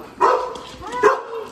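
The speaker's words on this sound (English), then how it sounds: "Dog." A dog gives two sharp barks close by, spaced just under a second apart, with no talking over them.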